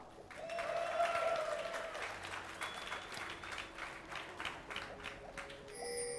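At DreamHack Summer 2012, an esports crowd at a League of Legends match between Curse.EU and PAH cheers and applauds. The roar swells early and then holds as sustained clapping and shouting in a large hall.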